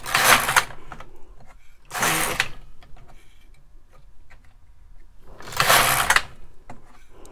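Needles on an LK 150 knitting machine are pushed back along the bed, giving three loud raspy sliding strokes a few seconds apart with quiet gaps between them.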